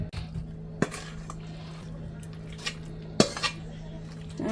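A creamy chicken mixture with bacon, ranch and cheese scraped into a casserole pan, giving a few sharp utensil clanks against the dish amid soft scraping and quiet background hum.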